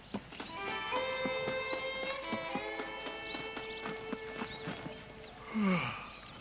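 Horse in the Red Dead Redemption video game, steady clip-clop of hooves under a sustained musical tone, ending with a close snorting whinny near the finish.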